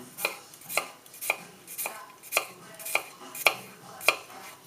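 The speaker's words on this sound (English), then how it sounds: "chop that into little batons" Kitchen knife chopping peeled ginger into batons on a board: about seven crisp, evenly spaced strokes, close and clear, with no talking.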